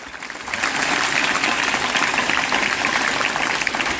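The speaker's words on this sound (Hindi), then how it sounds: "बजाइए बजाइए जोरदार तालियां" Audience at a Haryana Day celebration breaks into loud, sustained applause, a dense wash of clapping that rises quickly and holds steady throughout.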